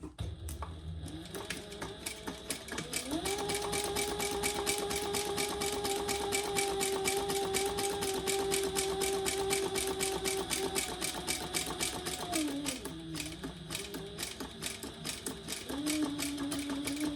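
A sewing machine stitches a quarter-inch seam in one long continuous run with a rapid mechanical rattle, its motor tone rising and later dropping, close and steady with no speech.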